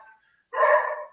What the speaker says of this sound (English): And if you hear my dogs barking